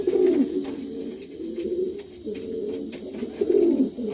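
Pouter pigeons at a pigeon show coo repeatedly in low, throaty, rolling phrases, close and fairly loud, with a steady murmur behind them.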